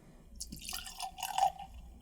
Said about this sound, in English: So let's go and get this poured.